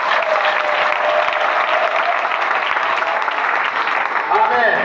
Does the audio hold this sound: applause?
yes